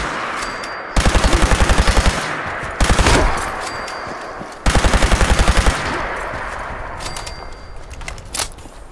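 Automatic laser rifle with quadruple fire rate blasting in Fallout 76, fired in three rapid bursts of evenly spaced, loud zapping shots separated by short pauses, with quieter game ambience between bursts.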